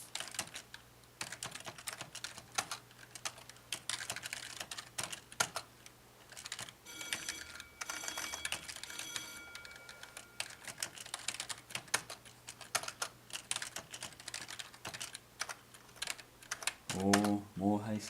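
Code being typed on a computer keyboard, with rapid, continuous key clatter close by and a speaking voice over part of it.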